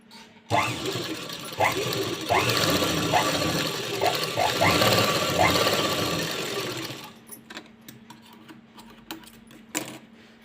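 A sewing machine runs top stitching on blouse sleeve fabric, a close rapid mechanical chatter with several short bursts before stopping, followed by quieter handling noises.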